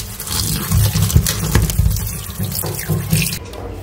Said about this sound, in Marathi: मस्त पाण्यातून स्वच्छ धुवून काढूयात आपण ही।